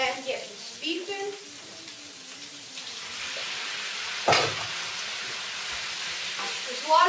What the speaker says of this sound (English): So we're just going to fry both these up